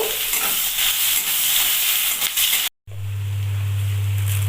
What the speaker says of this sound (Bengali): কুচানো পেঁয়াজ দিয়ে দেব ভালো করে লাল করে ভেজে নেব